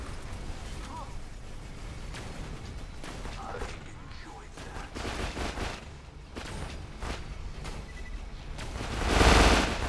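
The Banbury gun in Borderlands 2 fires in rapid, sustained automatic bursts, loud and continuous, and a heavy blast swells near the end.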